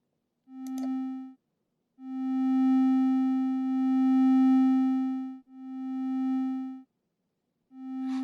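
A synthesizer plays a plain sine-like tone shaped by an envelope with reverb, sounding as a series of sustained held notes of varying length separated by short gaps, each swelling in and fading out smoothly.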